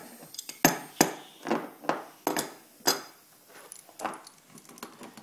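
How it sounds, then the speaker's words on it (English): Tightening the locking nut on a Dafra DNP12 rivet nut tool gives a run of sharp metallic clicks and clinks, about eight distinct hits at uneven spacing, close and fairly crisp with no talking. "tighten the locking nut"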